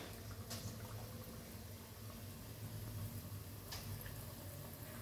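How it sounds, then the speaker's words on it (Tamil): Ground lentil batter, dropped in small pinches like pakoda, frying in hot oil: a steady, even bubbling and crackle at moderate level throughout, with no voices. "வெறும் பருப்பை அரைச்சி இந்த மாதிரி பொரிச்சு எடுத்துக்கோங்க"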